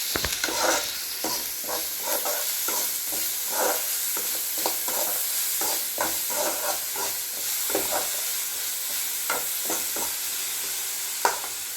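Green chillies frying in hot oil, with a steady sizzle broken by repeated scraping stirs of a spoon against the pan, close and unaccompanied by speech.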